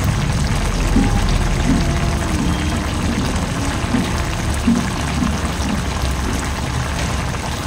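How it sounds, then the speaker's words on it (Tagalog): Water pouring into a pot of cooking Bisaya utan vegetables with malunggay, a steady soft rushing pour lasting several seconds, close and continuous with no talk over it. "So mag-add kaya tayo ng water. Kunting water lang."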